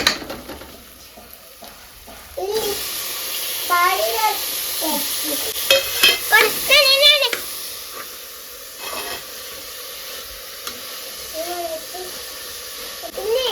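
Tomato frying with ginger-garlic paste in a pan for chicken biryani, a hissing sizzle that jumps up as ingredients go in, with people talking over it at times.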